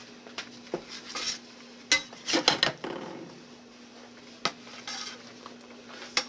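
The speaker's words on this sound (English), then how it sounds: "The pan just be bopping around there" Metal meatloaf pan clattering and knocking on a kitchen surface, scattered irregular clanks with a few louder clusters of rattling, no talking.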